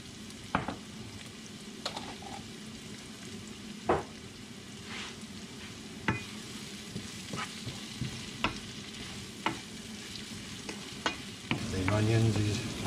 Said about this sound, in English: Onions is caramelizing nicely.